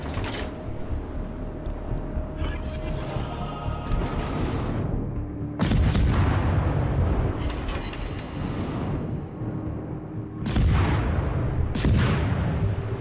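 Destroyer Jianwei's guns fire in World of Warships Legends, heavy booming salvos arriving in three bursts a few seconds apart over a constant rumbling engine and ocean background.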